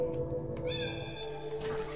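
Cat in the video game Timelie giving a short, clear meow in the middle of a quiet electronic game backdrop.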